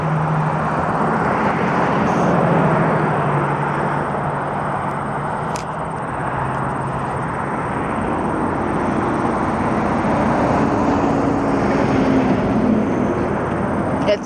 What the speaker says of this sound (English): it sounded like a big propeller aircraft